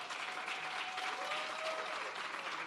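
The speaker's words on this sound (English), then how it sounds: "Can we hear another round of applause?" An audience at a Trade Board Limited EXPORTAcademy launch event applauds as team members are invited up. The clapping is sustained and fairly distant, forming an even crowd roar with no talk over it.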